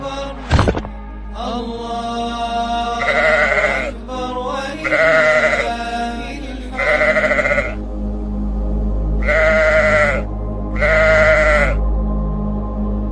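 A sheep bleats repeatedly, five or six drawn-out wavering calls with short pauses between them, close and loud after a brief thump at the start, and no one speaking.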